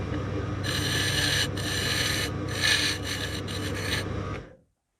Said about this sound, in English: with my little diamond bit here, I'm going to quickly make a little groove so I can actually put an O-ring in there